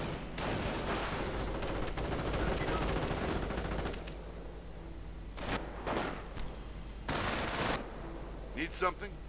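Bursts of gunfire from a World War II strategy video game, with sustained rattling fire at first and then several separate shorter volleys, heard alone at moderate loudness.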